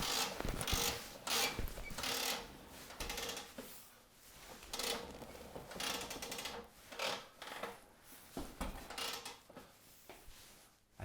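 A 50-foot retractable air hose reel winds the hose back in with a continuous rattling, ratcheting mechanical whir that surges and slackens in uneven bursts, close and fairly loud.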